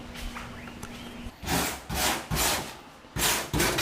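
A car roof being cut open by hand to fit a moonroof, rhythmic rasping strokes of a saw working through sheet metal, loud and close with several repeated bursts after a quieter start.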